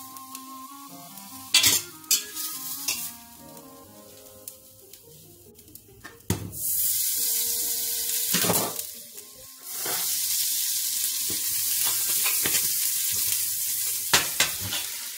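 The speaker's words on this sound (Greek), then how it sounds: "Βάζουμε μέσα το βούτυρο." Butter sizzling in a hot pan for chicken cacciatore: a bright, close hiss that swells and fades in bursts, broken by clinks and scrapes of a utensil against the pan, with no talking.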